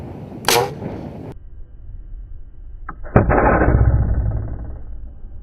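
A homemade compressed air rocket launches with a sharp pop and burst of rushing air, followed by a second loud blast and a sustained hiss of escaping air, close and loud with no talk.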